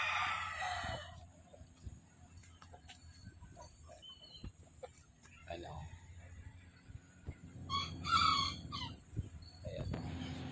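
Shamo rooster with a broad, bulging chest clucks and gives a short crow at a poultry brooding setup, the calls sharp and fairly close, with other birds and someone speaking in the background.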